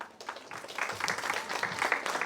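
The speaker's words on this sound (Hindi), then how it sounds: "तो तालियों के साथ स्वागत करते हैं हमारे अतिथि का।" A seated audience at an entrepreneurial education session claps to welcome a guest speaker, the applause building from scattered, uneven claps into a moderately loud, fuller patter.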